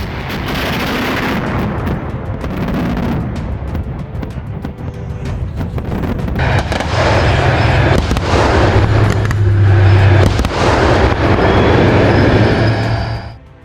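BMPT Terminator armored fire support vehicle built on a T-90 hull, its twin 30mm automatic cannons firing explosive shells at defensive lines near Kremennaya; loud, dense rapid bursts and rolling booms run continuously, swelling stronger in the second half.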